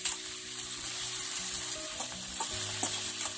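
Chopped garlic and ground beef frying in a pan, a steady close sizzle with intermittent stirring scrapes and clinks throughout, no voices.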